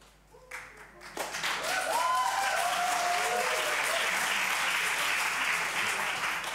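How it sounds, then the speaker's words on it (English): An audience at an inclusive-cities event breaks into applause after a short quiet lead-in with a faint voice, then sustained even clapping from a full room with a few whoops and calls. "you can clap for yourself for being so supportive, for being here"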